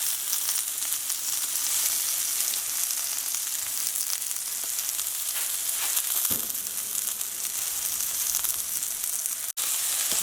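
Chicken pieces for sesame chicken fry in a pan with a dense, continuous hissing sizzle that stays loud and even throughout, broken by one brief clack near the end.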